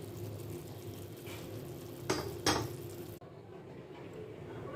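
Hilsa fish and mustard paste with black cumin and a little turmeric in frying oil, a low steady sizzle under a clatter of pan and utensil clinks, with two sharp louder scrapes near the middle before the sizzle settles quieter.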